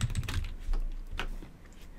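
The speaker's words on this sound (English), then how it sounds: "So we're going to start typing next step in the process." Computer keyboard typing while entering text in Microsoft Visio, a quick run of close, crisp key clicks with short pauses between bursts, heard on its own at low volume.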